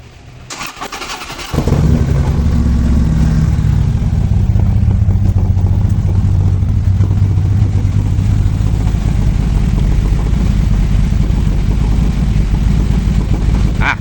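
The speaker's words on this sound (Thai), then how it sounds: "สตาร์ทตั้งหนึ่งที" A motorcycle in for repair of a gear oil drip and a crash-bar light that won't work cranks and catches after a brief quiet moment. It then idles loudly and steadily close by for the rest of the clip, with no voices.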